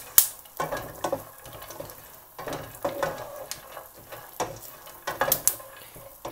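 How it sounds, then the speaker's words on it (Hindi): Nuts dry roast in a pan over low heat, with soft, irregular scrapes and rattles as they are stirred, faint and close with no talking. "इनको हमने 3 से 4 मिनट तक हल्की आंच पे रोस्ट कर लेना है।"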